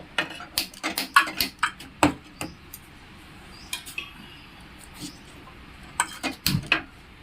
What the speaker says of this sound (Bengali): আমি কড়াই বসিয়ে দিয়েছি